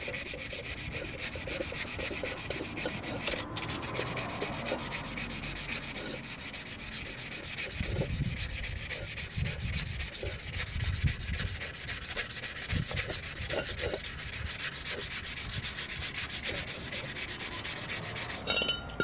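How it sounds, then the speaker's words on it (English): Glazing is sanded off the friction face of a car brake pad, a steady, close, abrasive rubbing that continues almost unbroken with rhythmic back-and-forth strokes. "like a glazing that the pad it creates with friction. Sand that down too."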